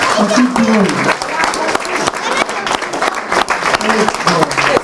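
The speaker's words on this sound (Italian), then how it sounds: "grande applauso" Audience applause at a year-end gathering in a care home for the elderly, steady clapping throughout with a voice speaking over it.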